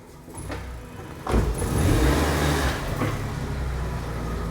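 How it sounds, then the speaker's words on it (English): A Ford Ka's engine driving up a ramp, idling low and then revving and straining under load with a sharp clunk at the start, a close, steady rumbling drone. "almost got enough clutch to get up the ramp"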